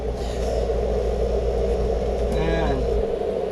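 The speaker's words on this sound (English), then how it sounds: "This is the sound of me staying cool by the AC." An air conditioner runs with a steady broadband whoosh and low rumble near a generator, loud and constant, with a faint wavering tone near the end as a low hum cuts out.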